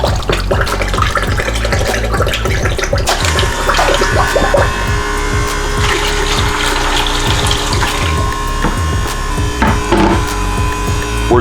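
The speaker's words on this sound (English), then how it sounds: "Then we're just going to pour this within our hopper." Cool water pours loudly into the hopper of a Stoelting ice cream machine being cleaned, a continuous close splashing gush with knocks and clatter from the equipment throughout, no voices.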